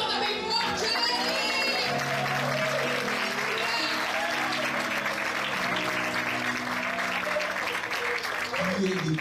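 A church congregation at a youth conference claps loudly and steadily throughout, with a dense wash of crowd noise and a voice speaking or singing over the top.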